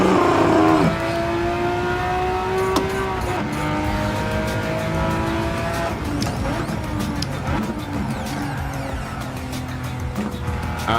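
A Ferrari Testarossa races in Gran Turismo 7, its engine loud and close, rising and shifting through gears with a brief tire squeal, a continuous racing roar throughout and no speech.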